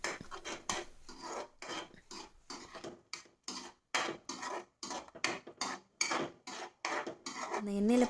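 A spoon stirs ground masala into paneer butter masala gravy in a pan, with repeated close scraping and rubbing strokes in an uneven rhythm and a brief voice at the very end.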